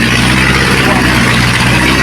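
A vehicle engine drones loud and steady as it strains up a steep slope on a ride near the Maramo River in Norzagaray, Bulacan, with wind and road noise mixed in.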